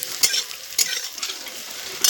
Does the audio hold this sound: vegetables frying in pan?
yes